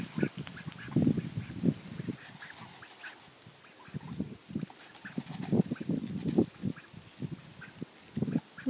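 A group of five ducklings quack and peep in short bursts as they follow food, a busy, irregular chatter nearby with no talking.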